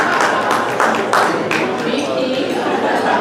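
An audience at a candidate forum applauds with steady, dense clapping, mixed with murmured chatter, filling the room at a moderately loud level throughout.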